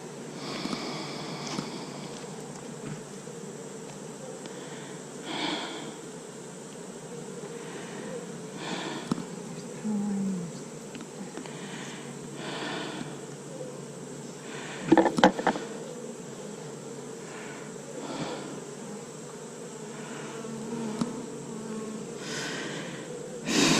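Honey bees swarm over crowded hive frames, a steady buzzing drone running throughout with a few brief louder passes close by and occasional handling noises.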